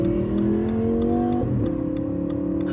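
Engine of an orange Lamborghini revving steadily, a loud sustained harmonic drone with a pitch shift midway, heard alone without voices.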